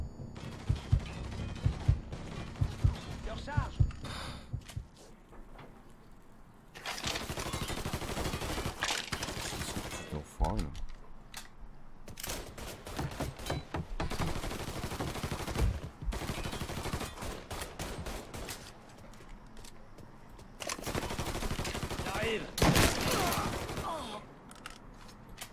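Gunfire in Mafia III, with rapid bursts of automatic shots and scattered single cracks in repeated loud volleys, separated by quieter stretches of game sound.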